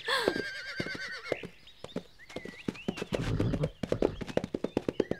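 A horse whinnies with a high, wavering call, followed by a steady run of sharp hoof clops close by, with brief voice-like sounds mixed in.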